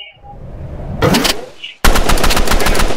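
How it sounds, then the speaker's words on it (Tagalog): Rapid automatic gunfire from the Roblox shooter game Rival erupts in loud, dense bursts, a short spray followed by a sustained stream of shots after a brief gap. "I'm getting shot by Chen."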